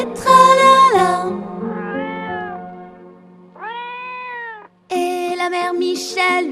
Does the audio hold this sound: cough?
no